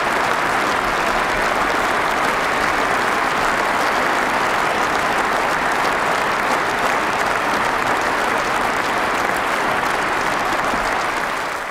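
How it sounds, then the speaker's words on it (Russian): Sustained applause from a large hall audience after a speech by the Russian president, Putin, a dense steady wash of clapping that holds at full loudness for the whole stretch with no voices over it. "Аплодировали президенту 53 раза."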